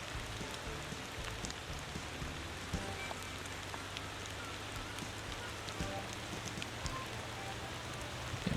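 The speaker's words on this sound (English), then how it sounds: "I think I will turn down the rain from the normal to a little bit less" Steady rainfall in the driving game Motor Town, a dense, even patter of drops on surfaces that carries evenly through the whole stretch with no voices.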